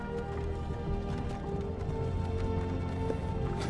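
Horse hooves clopping in Skyrim VR, a steady run of hoofbeats under a constant hum of game ambience, moderately loud and continuous throughout.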